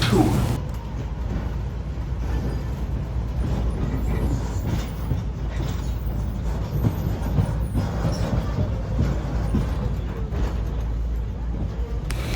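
A train ride on a looping track at the National Railroad Museum rumbles along with a continuous low clatter of rolling wheels, steady throughout, with voices talking faintly beneath it.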